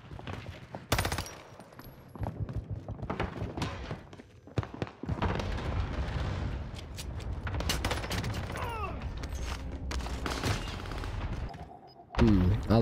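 Rapid gunfire from Call of Duty: Warzone (Vanguard era) on Rebirth Island, with dense bursts and volleys of automatic shots, sharp cracks and heavy thuds piling up close and loud across the whole stretch.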